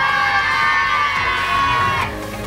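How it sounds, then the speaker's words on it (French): A crowd cheering and whooping for the Audencia team at a public relay event, loud and sustained for a couple of seconds before tapering off, with no talk over it. "Applaudissements pour l'équipe Audencia."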